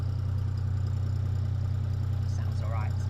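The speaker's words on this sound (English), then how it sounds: "Engine still sounds a little bit different" A narrowboat engine idles steadily and close by after a rope has been cleared from its propeller, a deep even throb that holds throughout, with a brief voice near the end.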